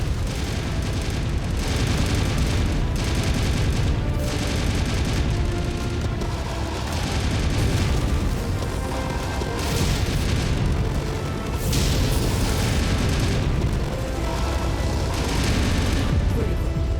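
Mech weapons firing and explosions in MechWarrior, a dense, continuous barrage of booming blasts and heavy gunfire rolling on without pause at loud, close range.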